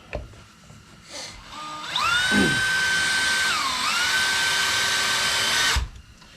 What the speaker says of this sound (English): Tighten this one up a little bit more and then just screw all them in.